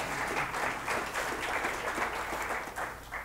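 Applause from the audience at a software conference keynote, a steady, moderately dense patter of many hands, mid-distance and even throughout, tapering slightly at the end.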